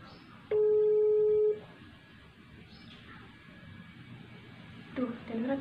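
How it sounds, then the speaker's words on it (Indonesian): A single telephone ringing tone plays while a call is placed, one loud steady electronic burst of about a second, then quiet with faint background sounds and a brief stir at the end. "Telepon Bella."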